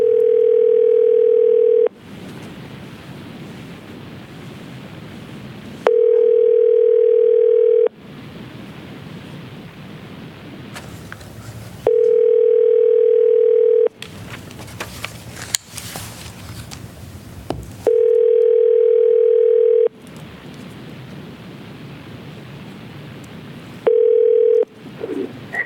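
A telephone line tone sounds in repeated steady bursts during a city council meeting while a remote participant is phoned in, alternating with hissing line noise and crackle between tones.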